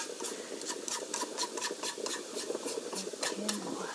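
Onion and bacon being stir-fried in a preheated pan, steady sizzling with repeated scraping strokes of a utensil against the pan, close and continuous.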